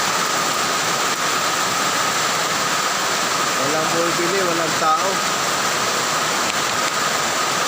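Heavy rain pours down in a dense, unbroken roar at an empty roadside coffee stall, while a voice talks briefly over the steady downpour.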